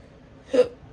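A single sharp, close hiccup from a person in a quiet room, brief and alone.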